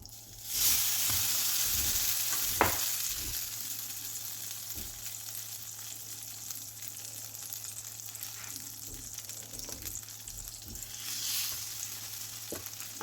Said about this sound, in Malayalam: ഒരു ഗോൾഡൻ ബ്രൗൺ നിറമാകുന്നത് വരെ നമുക്ക് പൊരി പൊരിച്ചു കൊണ്ടുവരാം